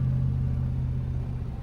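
A 1965 Shelby GT350 with side exhaust drives along, its engine giving a steady, deep rumbling drone, loud and close throughout with no talk.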